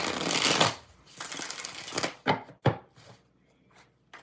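A deck of tarot cards is shuffled up close: a long riffling burst, then a second rush of cards, followed by several sharp taps and softer slides as the deck is squared.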